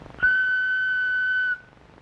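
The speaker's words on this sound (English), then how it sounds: "When you hear me blow on this whistle" A single sustained whistle blast, loud and steady for just over a second before cutting off, with no voices over it.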